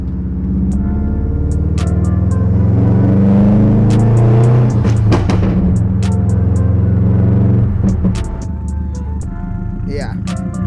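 A straight-piped Subaru STI exhaust rumbles loud and close with a deep, throbbing idle that swells into a rev and then settles, with sharp clicks scattered throughout.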